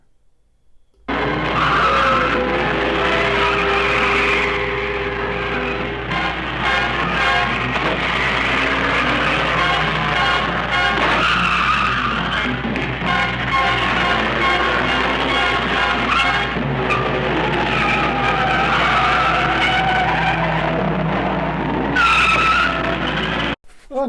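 A tricked-out car skidding in a SuperArgo film scene, long squealing tire screeches and engine revving over a steady hum, loud and close for most of the stretch.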